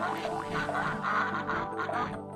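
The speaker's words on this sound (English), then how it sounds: "That's the sound a duck makes." A goose in the Frogger video game gives duck-like quacks, a few rhythmic honking calls in a steady run, close and fairly loud, with a faint voice briefly under them.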